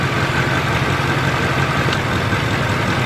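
A Nissan Y33 engine idles close by with a steady, loud, even rumble as ignition plugs are disconnected one at a time, the tone holding fairly constant with no talking.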